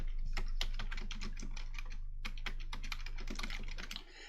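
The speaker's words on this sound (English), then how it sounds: "So I'm going to type that in there." Clear key clicks from typing on a computer keyboard, in two quick bursts separated by a brief pause, close and fairly distinct over a faint steady hum.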